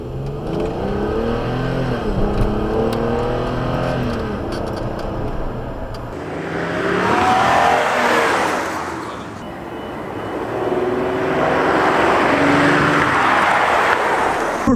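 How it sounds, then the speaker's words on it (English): A 2014 Ford Police Interceptor Sedan's engine revs and accelerates in two loud surges, rising then easing off, with a steady roar throughout and no speech. "you really have to put your foot down to really hear the engine roar"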